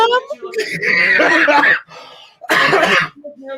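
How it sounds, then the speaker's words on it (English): Harsh bursts of coughing and throat clearing, close and loud, in two separate fits with a short pause between them. "Sorry for coughing at everyone"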